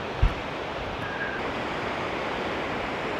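A waterfall at Si Phan Don in Laos makes a steady, even roar of rushing water throughout, with a single soft thump near the start and no voices.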